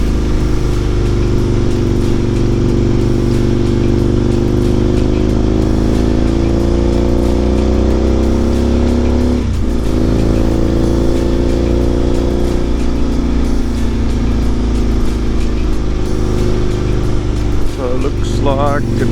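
An Aprilia motorcycle engine drones loudly and steadily on board as it runs the Isle of Man TT course near Sarah's Cottage, its pitch shifting through gear changes, with wind rush and a voice talking over it.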